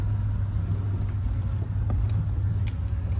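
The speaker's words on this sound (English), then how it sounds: "I use it mainly just as a farm truck." A farm truck engine runs steadily while driving, giving a continuous low rumble with road noise and no talk.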